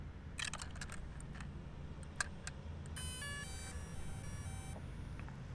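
Faint, close electronic tones from a DJI drone controller powering on: scattered clicks, then a steady beep tone lasting under two seconds, over quiet background hiss.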